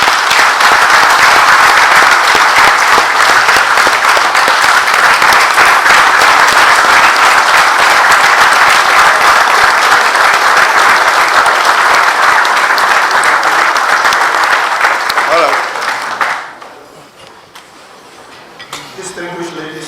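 Sustained loud applause from a large audience at a military ceremony, dense steady clapping for about sixteen seconds before fading abruptly into quieter room sound.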